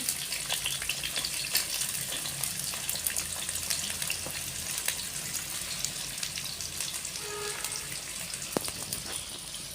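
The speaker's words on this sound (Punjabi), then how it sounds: "ਹੁਣ ਆਪਾਂ ਇਹਦੇ ਵਿੱਚ ਪਿਆਜ਼ ਪਾਵਾਂਗੇ ਜਿਹੜਾ ਕੱਟਿਆ ਸੀ" Chopped onion fries in oil in a pan with aubergine, a soft continuous sizzle with faint stirring scrapes and the odd clink, heard close and fairly quiet without any talk.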